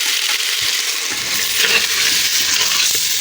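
Ground fennel and salt are stirred into a pot of fish head soup, giving a constant close sizzling, bubbling hiss with soft scraping stirs underneath and no voices.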